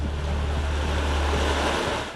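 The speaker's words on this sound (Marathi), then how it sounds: "इंद्रायणी नदीला मोठ्या प्रमाणामध्ये पूर आलेला आपल्याला एक ठिकाणी पाहायला मिळतोय" Floodwater of the Indrayani River at Alandi, swollen after heavy rain, rushes past in a steady, loud, unbroken roar with some wind noise.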